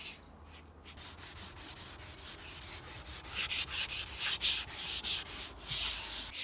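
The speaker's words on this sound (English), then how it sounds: "And so we're giving it now a wet scrub." Wet scrubbing of painted weatherboard with a grit-embedded nylon pad during paint stripping, rhythmic back-and-forth rasping strokes, close and steady, about a dozen passes with no talk.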